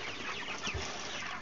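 Chickens raised for harvest on a farm, soft brief clucking amid a low, noisy background over a short moment.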